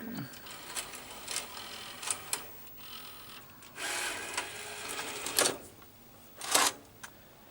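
A Sony EV-C200 Hi8 VCR ejecting a tape, a series of mechanical clicks, whirs and clunks from close by, with brief bursts of motor noise.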